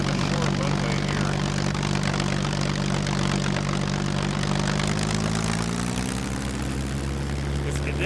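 Propeller airplane landing on a short rough bush runway in the SCUM video game, a close steady engine drone with the pitch sliding down as it slows, with talk over it.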